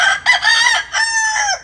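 A rooster crows once, loud and close, a full multi-part cock-a-doodle-doo with no other sounds around it.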